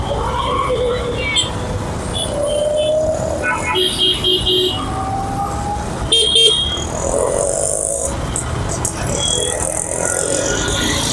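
Busy road traffic in Mysuru, heard from a bike, brings a dense rumble of vehicles with repeated car and bike horn toots and honks at varying distances. A voice talks now and then.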